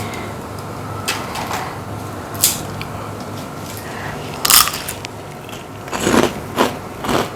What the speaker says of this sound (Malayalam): ഇനി ടേസ്റ്റിംഗ് ഞാൻ കാണിച്ചു തരാം. നല്ല കരുകരുപ്പ്